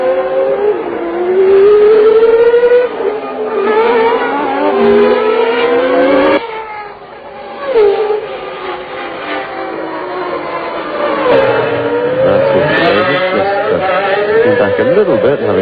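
Formula 1 cars from the 1990 Canadian Grand Prix in Montreal scream past in close succession, high engine notes rising and falling as they shift gears, with a commentator talking over the racing.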